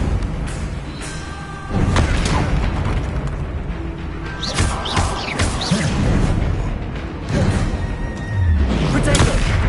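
Bombarda explosion spells going off in the Hogwarts Legacy video game, heavy booming bursts repeating every couple of seconds amid a dense, noisy mix of combat effects, with a voice talking over them.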